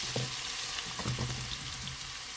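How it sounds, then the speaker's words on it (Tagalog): Garlic that has already turned brown sizzles steadily in hot oil in a pan, with a constant close frying hiss and a few soft stirring scrapes, and no one speaks. "At pagka nag-brown na yung bawang, susunod na niya sibuyas."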